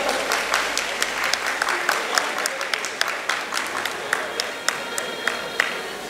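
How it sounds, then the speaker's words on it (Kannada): Audience at a Kalaburagi jayanti celebration ceremony applauding, a steady wash of many hands clapping with sharper individual claps standing out, moderately loud and continuous. "ದಯವಿಟ್ಟು ಚಪ್ಪಾಳೆ ತಟ್ಟುವುದರೊಂದಿಗೆ ಅವರಿಗೆ ಅಭಿನಂದಿಸೋಣ"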